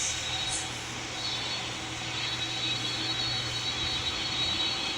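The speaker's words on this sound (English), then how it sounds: "This is a Lufthansa E350 route GR to LA." Lufthansa airliner seen while plane spotting, its jet engines giving a steady, moderately distant roar and whine that holds evenly throughout.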